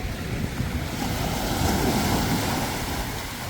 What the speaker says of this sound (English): So, Playa Centro Beach is looking all pristine and blue.